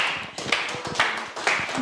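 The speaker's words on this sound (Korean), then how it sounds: "박수 한번 보내주시죠" Audience applause for a soprano at a church worship service, a short burst of many hands clapping in a hall, fairly close and steady with small swells.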